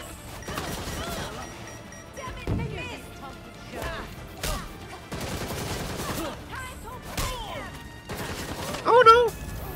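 Gunfire and combat impacts in the video game Gotham Knights come in short, sharp bursts amid game voices and music, loudest toward the end.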